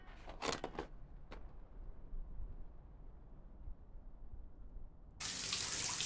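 Bathroom tap running water over dipladenia plants indoors, a few brief splashes at first, then a quiet hiss and finally a strong, close, steady gush of water near the end.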